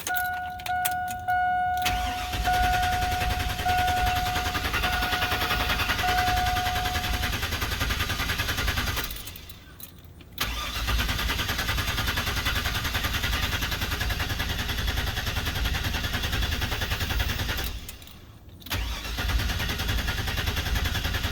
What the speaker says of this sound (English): You just let the engine crank over a few times.